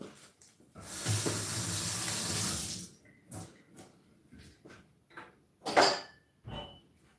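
Water runs from a tap into a pot of soaking beans for about two seconds in a soft close hiss, followed by quieter clinks, handling noises and a sharp knock.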